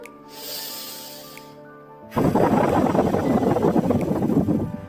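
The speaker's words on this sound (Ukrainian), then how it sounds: "Глибокий вдих носом." A deep breath drawn in through the nose during a children's breathing exercise, a soft hissing inhale followed by a louder, steady rushing breath.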